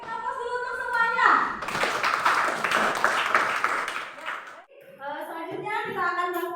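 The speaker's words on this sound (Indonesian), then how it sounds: "berikan aplaus dulu untuk semuanya." Classroom of schoolchildren clapping and applauding together, a dense burst of many hands lasting a few seconds, with a teacher's voice talking before and after.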